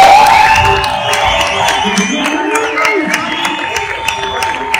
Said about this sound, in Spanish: Un grandísimo aplauso, unidos a Vivian Rosa.